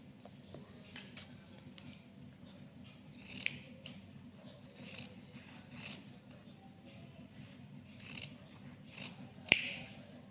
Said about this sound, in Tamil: நம்ம வந்து கிராஸ் பீஸ் வந்து வெட்டியாச்சு